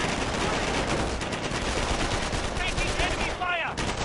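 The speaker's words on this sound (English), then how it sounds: "DevM is playing so aggressively with this machine gun" Machine gun fire crackles in a World War II strategy video game as a dense, continuous burst of rapid shots filling the mix, with a commentator's voice starting in over it near the end.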